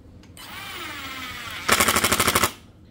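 A cordless brushless impact driver, the DCK KDPL208, drives a screw straight in without pre-drilling, then breaks into a loud, fast rattling hammer of rapid impacts for about a second before stopping.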